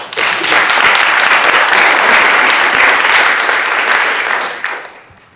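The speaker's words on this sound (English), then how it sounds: "give it a round of applause" Loud, sustained applause from a seated audience at a panel discussion on food sovereignty, a thick wash of many clapping hands that holds steady before tapering off near the end.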